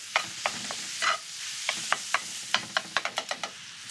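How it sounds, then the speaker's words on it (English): Metal spatula chopping cheesesteak meat seasoned with dry rub on a hot griddle, a steady sizzle under a run of sharp scraping taps that quicken into a quick rhythmic burst near the end. "you take one of these and you start to chop that meat up"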